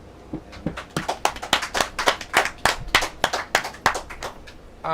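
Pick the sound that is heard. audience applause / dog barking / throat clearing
audience applause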